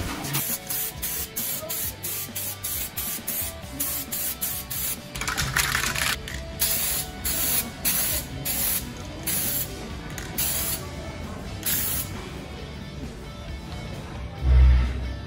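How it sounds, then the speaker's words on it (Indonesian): Spray gun laying thin, even coats of silver grey metallic paint onto a Honda Scoopy scooter CVT cover, a steady hissing spray broken into repeated short bursts, close and fairly loud. "Dan semprotan itu nggak tebal-tebal, tipis-tipis merata aja, yang penting jangan sampai blewer."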